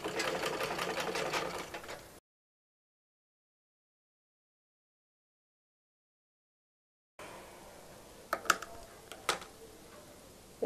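A sewing machine runs stitches on a frock for a two-to-three-year-old, a rapid ticking whir in a short burst, then a long silent gap before it starts again with a few clacks.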